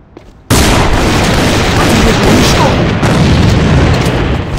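A grenade blast in a multiplayer video game match hits hard and loud, a sudden broadband boom that stays dense and roaring for several seconds after a brief quiet lead-in.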